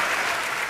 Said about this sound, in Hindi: भाई तालियां कम दी